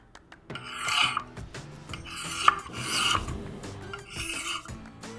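Knife blade rasping across the fine side of an oiled tri-stone sharpener: four or five distinct gritty strokes in a slow, even rhythm, close and fairly loud, with no talk.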